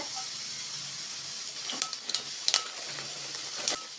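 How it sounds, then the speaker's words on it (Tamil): Mustard seeds and urad dal fry in hot oil in a pan, making a soft, steady sizzle broken by a scattered run of sharp little pops and crackles. "பேன் வச்சு தேவையான அளவு எண்ணெய் சேர்த்துக்கிட்டேங்க இப்போ கடுகு உளுத்தம்பருப்பு சேர்த்துக்கலாங்க"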